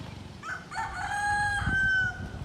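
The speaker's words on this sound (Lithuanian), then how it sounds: "Gaidžiai gėda." Rooster crowing once in Phuket, Thailand, a single drawn-out cock-a-doodle-doo at moderate distance rising and trailing off over light background noise.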